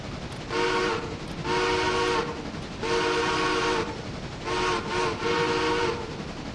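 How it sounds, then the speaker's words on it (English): Multi-chime train whistle sounding in the railroad game Railroader, blown in four long blasts with short gaps and a steady rumbling background beneath, no voices. "That's not the mournful whistle that I'd like to have."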